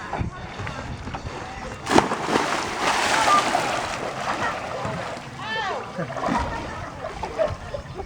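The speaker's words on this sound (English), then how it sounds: "All I'm going to do is just fall in" A paraplegic man falls from the side of a swimming pool into the water, with a sharp close splash followed by sloshing and churning water that continues for several seconds.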